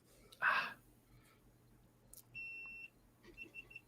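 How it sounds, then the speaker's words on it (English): A small electronic device gives a thin sustained beep, followed by a few quick softer beeps, faint in a quiet room, with a breathy sound shortly before. "The little beep happened, and then the beep happens when it turns on and turns off."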